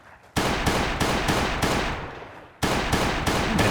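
Gunfire from a firearm in the survival video game Last Day On Earth, loud rapid bursts of shots in a fast repeating rhythm, with a short pause before firing resumes.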